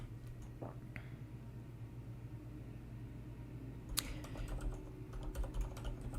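Computer keyboard typing, faint scattered keystrokes and clicks close by over a low steady room hum, growing a little busier in the second half.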